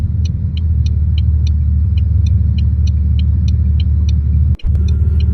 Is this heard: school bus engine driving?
yes